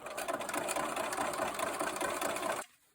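A sewing machine stitches a quilt seam where diamond points cross, running at a regular stitch length in a steady, close, dense whir for about two and a half seconds before stopping abruptly.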